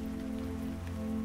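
Rain falls steadily at a train platform, a soft, even patter with a low steady hum underneath, quiet and continuous.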